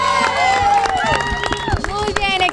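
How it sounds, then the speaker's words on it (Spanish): Applause and cheering from a community audience at an outdoor Christmas event, continuous crowd noise with voices mixed in throughout, fairly loud and close. "¡Aplauso para ustedes!"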